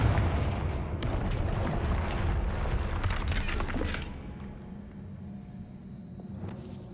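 Confringo blast spells going off in Hogwarts Legacy, a loud, dense burst of booming magical explosions and crackling debris that rumbles for about four seconds before dropping to a quieter low rumble.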